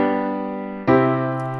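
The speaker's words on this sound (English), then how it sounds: "A perfect cadence goes from chord 5 to chord 1" Two sustained chords sound in a perfect cadence, chord five resolving to chord one, the second chord struck sharply halfway through and left ringing, close and clear with no voice.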